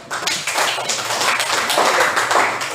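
Audience applause in a classroom setting, a dense steady patter of many hands clapping together for nearly three seconds, fairly loud and close, with no voices over it.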